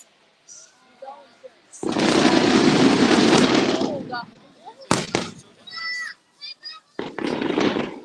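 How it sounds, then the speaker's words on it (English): Fireworks crackle and bang at the opening ceremony of the Zigong Lantern Festival in China, a loud sustained burst of several seconds followed by sharp reports and shorter crackling volleys, with people talking nearby. "So maybe this fireworks for the opening ceremony of the Lantern Festival."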